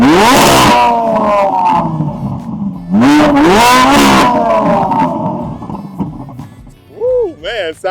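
A stock Chevrolet Corvette C8 Z06 exhaust in Z mode revs hard in a few loud, rising bursts with brief drops between them, up close. Voices overlap the engine noise.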